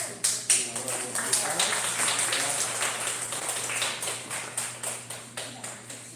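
A church congregation claps in a Sunday service, with many hands striking in irregular, close bursts that swell and fade repeatedly, sounding clear and near, without talk over it.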